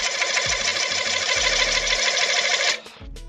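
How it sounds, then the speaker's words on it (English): A wood lathe spins an old-looking platter at about 500 RPM, a steady, loud mechanical whir with a continuous hiss of the cutting tool that runs for most of the clip and then drops away near the end. "So lathe on about 500 RPM. And I'm just going to run that"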